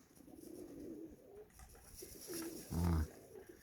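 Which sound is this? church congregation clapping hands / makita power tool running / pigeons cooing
pigeons cooing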